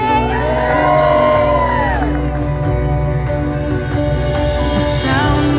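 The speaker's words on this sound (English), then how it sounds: "So ladies and gentlemen, I need to hear a big cheer for Mr." Wedding guests cheer, whoop and shout loudly for the newlyweds at an outdoor Gold Coast hinterland ceremony, a sustained crowd roar with children's shrieks lasting the whole clip.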